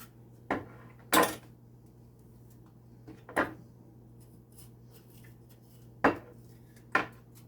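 Six sharp knife taps strike a cutting board at an uneven pace as a bell pepper is chopped, close by, with quiet pauses between the chops.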